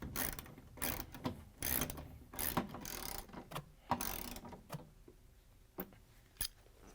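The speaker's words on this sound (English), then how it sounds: "we can use the ratchet with the extension and the 10mm socket to put the bolts back in" Ratchet with an extension and 10mm socket driving bolts on a Samsung washer clutch assembly, a series of quick clicking ratchet bursts in irregular strokes, close and fairly quiet, no talk.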